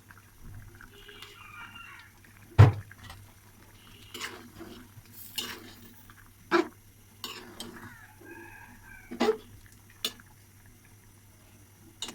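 Shrimp and mango curry cooks in a covered pan, a low steady simmer under occasional sharp clinks and taps of a utensil against the pan, with faint murmuring in the background.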